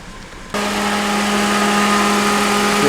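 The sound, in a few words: Holden Commodore engine idling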